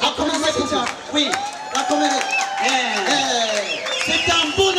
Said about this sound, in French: Applaudissez pour. Applaudissez pour.